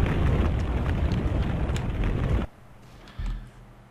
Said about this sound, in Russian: Ой, вот еще один атомный взрыв